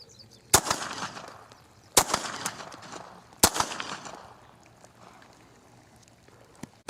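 A Bersa .380 pistol fired at a target outdoors: three sharp, loud reports spaced about a second and a half apart, each trailing off in a brief echo, with no talk.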